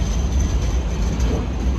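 Tram in Sydney passing close by as a continuous loud low rumble with steady rail noise, no voices over it.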